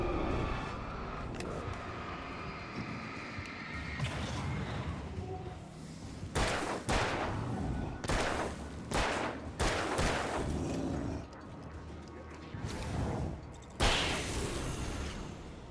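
Hunting rifle shots in the video game Alan Wake, a run of sharp loud cracks spread over the second half among game ambience, with several close reports and echoing tails.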